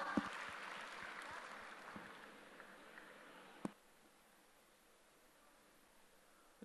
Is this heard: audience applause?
yes